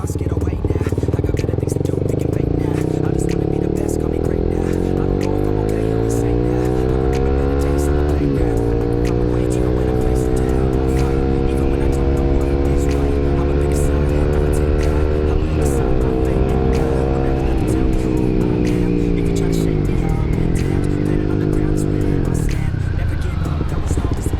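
A Suzuki GSX-R150 motorcycle engine revs and climbs through gears, pitch rising and dropping repeatedly, loud and close, with faint background chatter.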